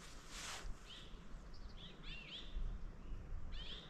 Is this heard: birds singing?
yes